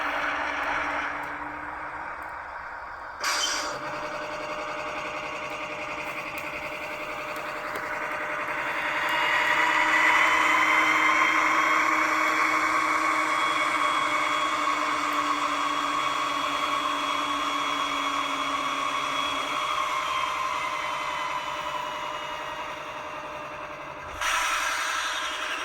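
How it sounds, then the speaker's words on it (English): ScaleTrains Rivet Counter ES44AH locomotive with a LokSound v5 decoder running in reverse with dynamic brakes on: a steady, moderately loud mechanical whine and fan roar swells, holds for about fifteen seconds, then eases off, with clicks at the start and end. "And I'll ramp us up a bit and toggle on the dynamic brakes."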